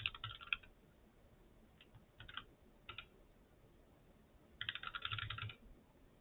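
Keyboard typing in short clattering bursts with pauses between, the last burst longest, fairly quiet with no one speaking.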